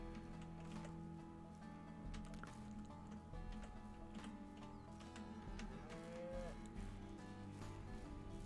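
Cows in Ranch Simulator make low, drawn-out moos over a busy farm backdrop, with wet squishing and dripping noises mixed in.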